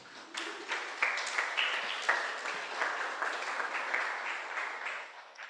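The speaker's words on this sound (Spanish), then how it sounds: "Eso, denle un aplauso al Señor" A church congregation applauds for the Lord during a sermon, producing a moderately loud, continuous patter of many clapping hands for about five seconds, with no voices over it.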